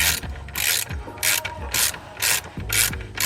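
Ratchet wrench turning an 8mm hex socket on an Audi transmission bracket bolt, quick repeated clicking bursts in a steady back-and-forth rhythm, close and clear.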